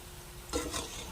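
Vegetable bonda frying in hot oil while being flipped over, a brief stir and splash of movement breaking through a low steady sizzle, close and quiet.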